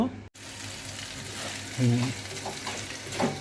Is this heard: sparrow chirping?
no